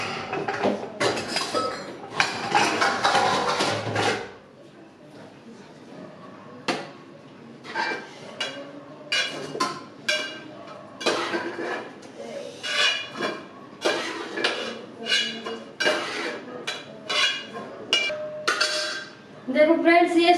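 Utensils clink and scrape as boiled soya chunks are lifted from a pot onto a plate, irregular close metallic taps and clatters spread throughout, with someone talking over much of it.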